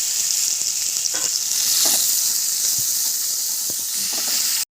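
Cauliflower florets fry in hot oil in a pan with a steady, loud, dense sizzle and hiss throughout, broken by a few faint clicks of stirring.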